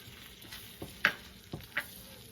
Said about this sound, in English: So now the butter has melted into this. I'm gonna add the all-purpose flour